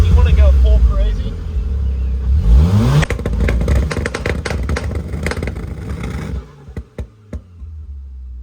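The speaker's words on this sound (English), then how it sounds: "just listen to that Miltech. Tone is so good" A tuned car with a Milltek exhaust and 25 psi of boost revs hard, a deep rumbling engine note climbing and crackling, followed by a few sharp pops as it settles, while people talk nearby.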